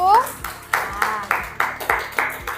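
A small class claps for a presenting group after a teacher-training exam presentation, several people clapping together in about seven distinct, evenly spaced bursts, close and fairly loud, with a brief voice at the start.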